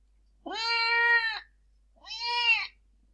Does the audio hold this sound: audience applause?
no